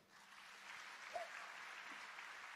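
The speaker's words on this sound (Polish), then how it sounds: "Brawa dla jednej" Audience applause at a Polish song festival, a steady wash of clapping from a crowd that holds evenly throughout, with no voices over it.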